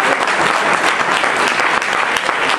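Indoor audience at a live reading breaks into dense, steady clapping that stays loud and even for the whole few seconds.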